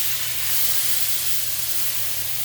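Minced garlic, about a tablespoon, sizzling in hot oil in a pan while lamb chops are being cooked, a steady, even hiss and fry holding constant throughout with a low hum underneath.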